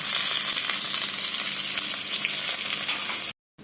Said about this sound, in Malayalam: നമുക്കിനി എണ്ണയൊഴിച്ച് ഇതൊന്ന് താളിച്ചൊഴിക്കാം